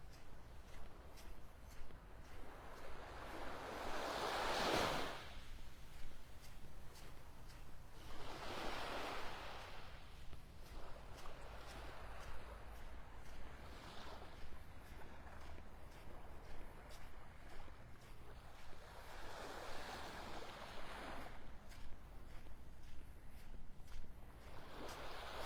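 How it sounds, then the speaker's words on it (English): Ocean waves wash onto Vanderbilt Beach in North Naples, Florida, with a steady roar of surf and soft swells breaking every several seconds, mixed with light wind noise and no talk. "Love the sounds of Mother Ocean"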